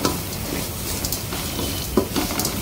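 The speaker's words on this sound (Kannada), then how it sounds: "ತೆಂಗಿನ ತುರಿನ ಹಾಕ್ಕೊಂಡು ಚೆನ್ನಾಗಿ ಫ್ರೈ ಮಾಡ್ಕೊಳ್ಳಿ" Grated coconut frying in a pan for a cucumber sambar, a steady close sizzle with soft stirring scrapes and a couple of brief utensil knocks, no voices.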